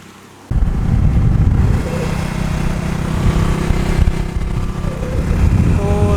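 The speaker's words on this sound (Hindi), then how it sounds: "तो दावली मोड़ के लिए हमें लिफ्ट मिल गया है बाइक में।" Motorcycle ride on a rural road in Odisha, with a steady close engine rumble starting after a brief quiet moment and running continuously with slight surges.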